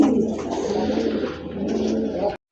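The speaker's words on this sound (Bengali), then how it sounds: "আরেক জোড়া কবুতর দেখেন, বিগ সাইজের এক জোড়া আফসান গ্রিজেল কবুতর" A big-sized pair of Afsan grizzle pigeons coos close by in a steady, throaty rolling murmur that continues before cutting off abruptly near the end.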